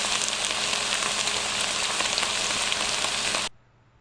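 Vegetables for a vegetable lasagna sauté in a hot pan, giving a loud, steady sizzle with faint stirring scrapes for about three and a half seconds before it cuts off abruptly into near silence.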